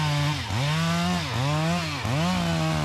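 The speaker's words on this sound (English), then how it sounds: "Here you can hear that saw struggling." A chainsaw roars loudly and continuously, its pitch dipping sharply three times as the chain bogs down in wood, then climbing back.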